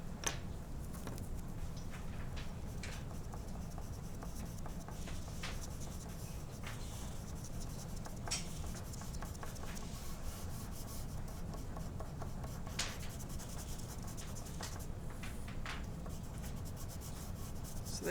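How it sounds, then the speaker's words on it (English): Chalk pastel rubbed onto paper makes a soft, continuous scratchy rasp with quick repeated strokes, quiet and close, with no talking. "It's like the chalk wants to be on the paper, it's happy to go on the paper"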